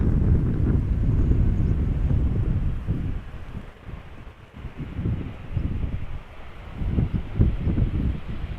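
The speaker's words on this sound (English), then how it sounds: "Embraer 190 arriving from London City." Embraer 190 airliner arriving in crosswind at Amsterdam Schiphol, a broad distant jet rumble heavily buffeted by wind gusts on the microphone.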